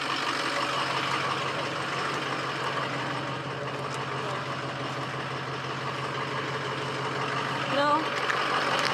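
A 2003 Ford 6.0 Power Stroke diesel truck engine idles in a steady, even rumble that goes on throughout the clip, with the truck suspected of injector trouble.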